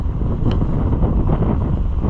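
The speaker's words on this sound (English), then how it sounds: "It's getting super windy and you probably won't be able to hear anything I'm saying" Strong wind buffets the microphone outdoors beside a Troy-Bilt Horse tiller with a constant low roar and rumble, steady throughout with no other clear sounds.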